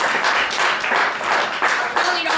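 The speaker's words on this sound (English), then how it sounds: "Clap it up for yourselves, please." An audience at a Brooklyn poetry slam cafe claps in uneven waves, bursts of hand clapping swelling and dipping over a couple of seconds, fairly loud and close.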